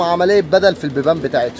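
Pigeons cooing inside a loft, soft repeated coos heard close by beneath someone talking in Arabic.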